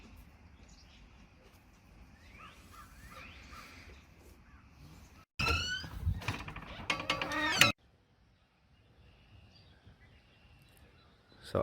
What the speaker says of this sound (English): That's a blue jay.